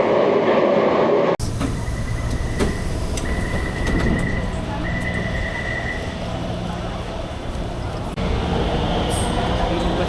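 Riding a Taipei MRT metro train: a steady rumbling roar of the carriage in motion with a high whining tone from the wheels or motors, a sharp transition partway through, and a constant hum inside the car.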